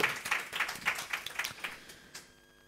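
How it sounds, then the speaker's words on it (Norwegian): Audience at a panel event in Arendal gives a brief round of applause, a steady patter of clapping that fades out after about two seconds into quiet room tone. "Så en applaus til de to siste også"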